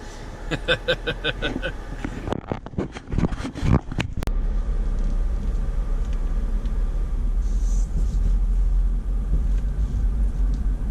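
A vehicle towing an M416 trailer crawls over rocks on a bumpy trail, with a steady low engine rumble throughout and a burst of sharp knocks and clatter near the start as the load bounces.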